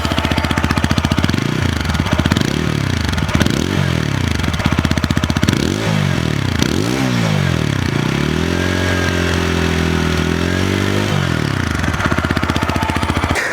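A TVS Apache RTR 160 4V BS6 motorcycle engine revs repeatedly, rising and falling in several quick blips before holding a higher steady rev, then dropping back to a thumping idle.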